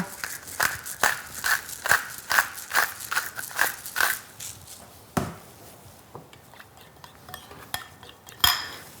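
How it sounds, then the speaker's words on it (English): A spoon clinks steadily against a bowl as ingredients seasoned with pepper are mixed, a quick even rhythm of scraping taps for several seconds, then a few scattered knocks and one louder clank near the end. "give it a really nice mix"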